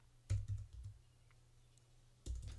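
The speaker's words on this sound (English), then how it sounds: "start typing something" Quiet typing on a computer keyboard: a quick burst of several key clicks at the start, scattered soft taps, then another short burst near the end, close and faint against a low hum.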